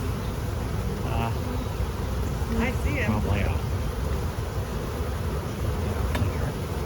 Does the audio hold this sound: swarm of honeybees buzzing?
yes